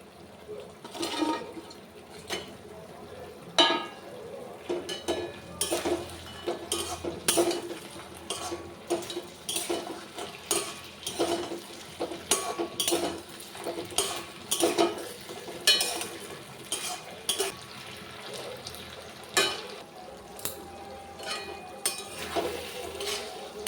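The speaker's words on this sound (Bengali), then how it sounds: "আর এই ভাজা বেবিকর্নগুলো দিয়ে দিতে হবে" Fried baby corn is stirred into a cornflour-and-water sauce in a pan for crispy chilli baby corn, giving repeated close clinks and scrapes of a spatula against the pan over a soft sizzle.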